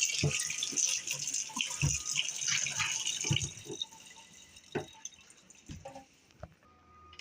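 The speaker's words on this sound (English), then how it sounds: "So just wash off the eggplant." Water runs from a tap and splashes over a salted eggplant being rinsed by hand, then tapers off into a few drips and clunks.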